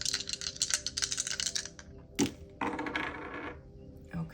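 Astrology dice tumble and clatter across a surface in a quick run of sharp rattling clicks, then come back in a few shorter bursts of knocking before settling, close and fairly quiet.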